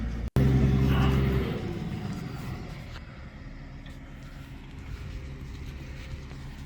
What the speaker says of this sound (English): Sorry for the background noise of the truck